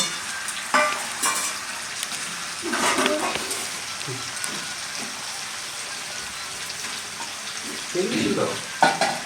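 Duck meat and fried potatoes are stirred in a small, crowded wok, giving a steady sizzle with bursts of scraping and clattering, and a voice talks briefly at intervals.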